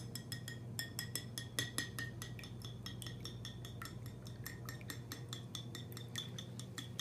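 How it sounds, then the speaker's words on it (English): A utensil stirs beaten eggs for dipping fish in a bowl, sending out rapid, regular clinks and scrapes against the bowl's side, faint and close, with no talking. "give it a little stir."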